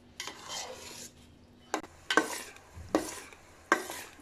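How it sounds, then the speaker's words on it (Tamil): A spoon scrapes and stirs coconut milk heating in a pan for virgin coconut oil, with several distinct stirring strokes and metal scrapes at a steady rhythm, close and moderately loud with no talking. "நீங்கள் இடைவிடாமல் தொடர்ந்து இந்த மாதிரி கிண்டிக்கிட்டே இருங்க, சுற்றிலும் அந்த ஓரம் எல்லாம் சேர்த்து இப்படி கிளறி விடுங்க."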